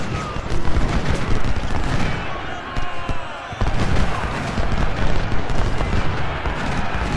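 Dense battle gunfire from a Gaines Mill war video game, a continuous crackling fusillade of rifle and artillery fire that stays loud throughout, dipping briefly midway before resuming.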